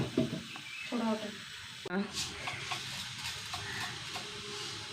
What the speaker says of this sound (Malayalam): കുറച്ച് കടുകം ഇട്ട് മാങ്ങ തളിക്കാനാട്ടാ